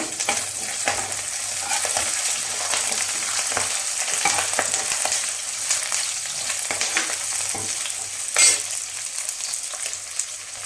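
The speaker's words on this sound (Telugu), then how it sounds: "అల్లం పేస్ట్ వేసుకొని బాగా ఫ్రై చేసుకోవాలి" Ginger paste frying in a pan after reddened onions, a steady loud sizzle with occasional stirring scrapes and one brief clatter, no voices.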